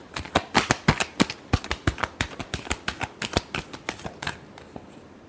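A deck of tarot cards is shuffled in a quick run of roughly thirty crisp, rhythmic riffling snaps that trail off near the end, close and clear with no talk.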